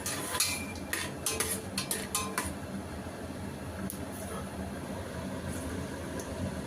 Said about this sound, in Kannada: ನೋಡಿ, ಈಗ ಈ ಎಲ್ಲ ಸ್ಪೈಸಸ್ನ ಒಂದೇ ಸತಿ ಹಾಕ್ಕೊಳ್ತಾ ಇದ್ದೀನಿ.